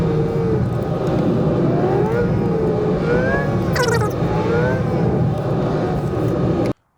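A Mazda CX-50 Premium Plus Turbo is driven aggressively over a rough road, producing a loud, steady rumble of engine and road noise throughout that cuts off abruptly just before the end.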